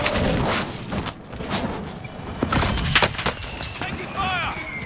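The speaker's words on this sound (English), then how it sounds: "Taking fire." Gunfire in Call of Duty Modern Warfare, a loud busy stretch of shots and booming impacts in close succession, with a voice talking over it.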